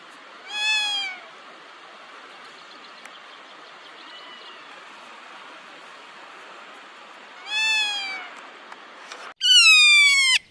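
Kea, the alpine parrots of New Zealand's west coast backcountry, give loud, piercing descending calls in rocky high country. Two separate call bouts come through over steady wind or running-water noise, and a third shrill, louder call arrives at the very end.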